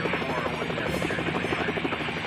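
A helicopter in Helicopter Simulator 2014: Search and Rescue drones steadily with a pulsing rotor chop, close and even throughout, with no talk.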